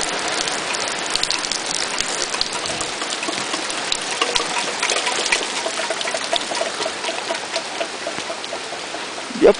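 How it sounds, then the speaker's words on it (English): Tropical storm rain falls steadily on surfaces and flood water, a dense continuous patter with scattered drips and splashes and a brief louder knock at the very end. "It's already started to flood."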